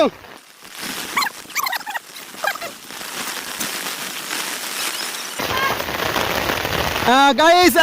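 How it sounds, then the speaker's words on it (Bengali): Rain falls steadily across waterlogged village fields with runoff streaming along the field ridges, a broad hiss throughout, while birds chirp and call in bursts near the start and a louder rising series of calls near the end. "সমস্ত জায়গাতে জল নেমে যাচ্ছে"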